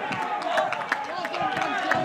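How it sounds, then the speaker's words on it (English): Supporters at a non-league football match between Loughborough Dynamo and Leek FC clap for a hat-trick scorer, scattered faint applause from a small crowd under a commentator's voice. "Milks the applause from the supporters."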